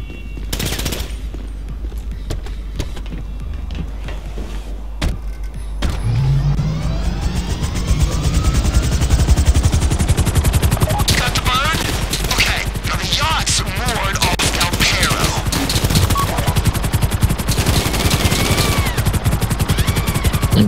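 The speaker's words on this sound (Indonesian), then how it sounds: "Tengok aku pakai Mac 10." Mac-10 submachine gun fire in GTA Online, long rattling bursts of rapid shots that grow dense and loud, mixed with in-game engine and impact noise.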